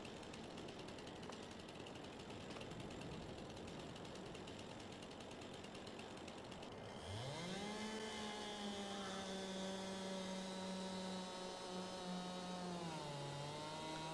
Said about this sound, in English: This is just a stock in-game chainsaw, but this is a pain in the butt to cut stuff with.